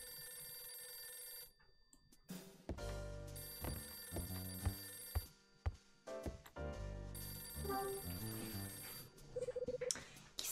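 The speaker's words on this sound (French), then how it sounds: "Le téléphone." A telephone rings within the video game Last Window, electronic ring bursts repeating in rhythmic bunches over quiet game music.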